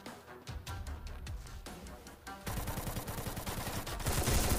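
Gunfire in a Free Fire Clash Squad ranked match, with bursts of rapid shots from several weapons that grow louder and denser toward the end, loud and close, with no talking.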